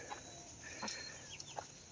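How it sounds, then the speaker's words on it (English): A silkie chicken clucks softly in a backyard flock, a few quiet scattered clucks over low background noise, faint and fairly close. "That's a silky chicken."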